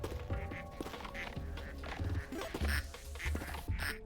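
Cartoonish quacks from ducks in a duck factory video game, repeated in quick succession amid mechanical clatter and game sounds, moderately loud with no speech.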